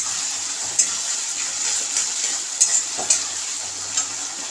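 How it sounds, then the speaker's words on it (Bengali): Chilli chicken with vinegar frying in a pan, a steady close sizzle and hiss with a few soft scrapes and taps of a spoon stirring at irregular intervals, no voices. "এবার এটাকে ভালো করে নেড়ে নিতে হবে।"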